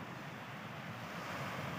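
Ocean surf at Patar Beach in Bolinao, Pangasinan, a steady wash of waves with wind rush that swells slightly toward the end, with no voices.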